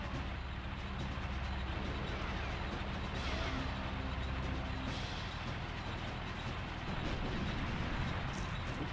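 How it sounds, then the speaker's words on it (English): Continuous heavy rumbling blasts and booming explosions in the video game GoldenEye 007 roll on without pause, dense and loud, with a low thundering bed throughout. "Cool guys, don't look at explosions."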